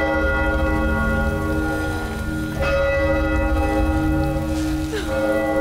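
A bell in a film scene rings with a full, sustained metallic tone that hangs in the air, struck again around the middle and near the end, over a steady background wash.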